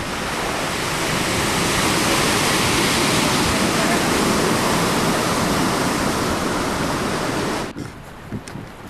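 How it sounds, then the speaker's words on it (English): A river wave surges and rushes behind a boat, a loud continuous roaring wash for most of the stretch that cuts off abruptly near the end, leaving quieter water sounds. "The wave clips along at an impressive speed behind the boat."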